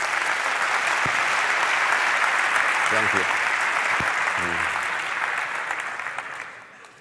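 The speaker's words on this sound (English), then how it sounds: "Give her a round of applause if you would." Audience applause rolls on steadily in a warm wash of clapping, while a voice briefly speaks over it before the clapping tapers off.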